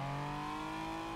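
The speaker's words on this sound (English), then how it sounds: "So, all-wheel drive, turbo V6, here we go. Let's try and get a decent launch." A 1991 GMC Syclone pickup with an all-wheel-drive turbo V6 launches hard, its engine droning loud and steady with strong low harmonics, heard up close for a brief moment with no talking.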